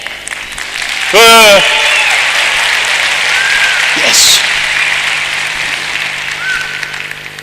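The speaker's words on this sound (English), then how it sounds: "Will you applaud and cheer? Please show me." A large keynote audience applauds and cheers in a big hall, with a loud whoop rising above steady crowd noise and a voice calling out briefly.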